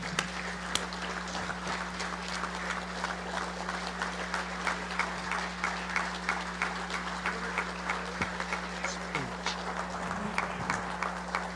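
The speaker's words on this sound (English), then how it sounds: "I hope that you will join me in a round of applause" A convention hall audience at an annual legion general session applauds an honoree: steady, sustained clapping from a large crowd, somewhat distant, over a constant low electrical hum.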